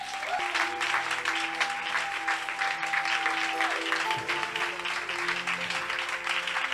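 A standing church congregation at a Sunday service claps and cheers in praise, sustained applause filling the room with steady organ-like tones underneath, and a voice speaking over it.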